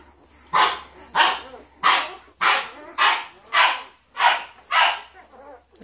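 A Newfoundland puppy barks nine times in an even, steady rhythm, each bark clear and moderately loud, with no talking over it.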